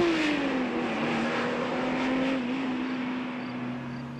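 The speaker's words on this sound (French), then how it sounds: "un tour de clé et on entend le V12. On écoute cette mélodie" A Ferrari Testarossa's V12 engine hums steadily at a low, constant pitch inside the car cabin, fairly quiet and even, with no voices.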